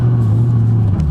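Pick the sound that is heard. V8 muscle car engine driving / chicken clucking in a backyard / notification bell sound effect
V8 muscle car engine driving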